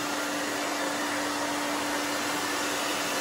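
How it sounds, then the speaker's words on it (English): A hair dryer blows steadily and loudly throughout while long gray hair is dried down after a short haircut, a constant close whoosh with no talking. "you're gonna just come with your blow dry and you're gonna dry this down"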